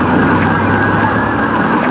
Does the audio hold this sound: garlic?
no